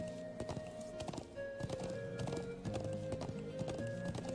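Horse hooves clip-clop in a steady, brisk rhythm while riding in the video game Trails of Cold Steel, close and clear over continuous background music.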